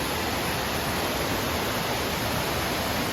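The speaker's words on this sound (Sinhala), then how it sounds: "නුවර දිස්ත්‍රික්කයේ තියෙන තවත් තාමත් ලස්සන දියැලක් තමයි කේන්ති ඇල්ල කියලා කියන්නේ" Kenthi Ella waterfall in Sri Lanka's hill country gives off a constant, dense roar of falling water, steady and unbroken from start to finish with no other sounds.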